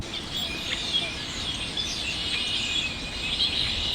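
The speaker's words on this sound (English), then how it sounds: "I just wanted you guys to hear all those birds" Many birds chirp and tweet continuously against a steady outdoor hiss, their calls high and overlapping, fairly distant.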